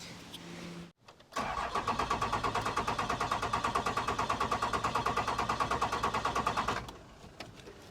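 An old, long-idle Cummins diesel in a plow truck cranks over with a fast rhythmic chug lasting about five seconds, loud and close, after a short pause, and it does not catch.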